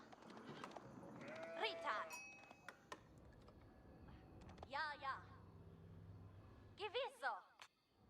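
In the Age of Empires 4 video game, sheep bleat in several short wavering calls at a moderate distance, interleaved with soft clicks and chimes from gameplay; a person talks at times.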